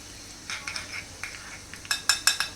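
Mustard seeds and green chillies crackle in hot oil for a tempering, faint scattered pops and spits that grow sharper and louder toward the end, with light utensil clinks.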